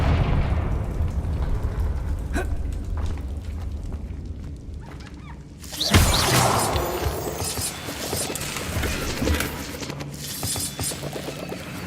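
A Confringo spell explosion in Hogwarts Legacy, a sudden loud blast bursting in partway through after quieter rumbling and clatter, then a broad crackling, rumbling decay.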